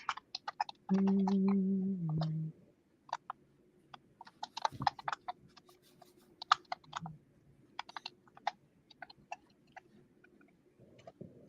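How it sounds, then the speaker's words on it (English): Fast, irregular clicking from typing on a new clicky keyboard runs throughout, crisp and close. A steady electronic tone briefly overlaps the keystrokes near the start. "I got a new keyboard and now I sound like an AI when I type."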